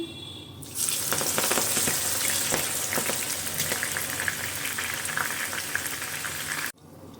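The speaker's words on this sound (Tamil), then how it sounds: "இதே போல் எல்லாத்தையும் பொறிச்சு எடுத்துக்கலாம்" A spinach mixture snack deep-fries in hot oil with a loud, steady sizzle and crackle, close up, and stops abruptly at the end.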